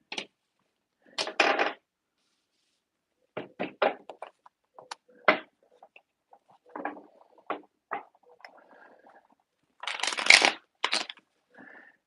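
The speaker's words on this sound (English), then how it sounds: "Let me shuffle these" Reading cards being shuffled by hand in short, crisp riffling bursts separated by pauses and light taps, close and fairly quiet.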